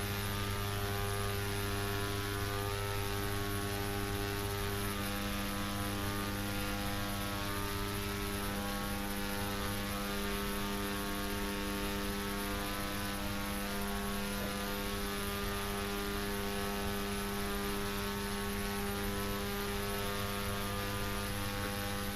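Steady, unbroken droning hum of an Embraer 120 turboprop cruising in the Prepar3d flight simulator, a constant layered engine tone with no voices or changes throughout.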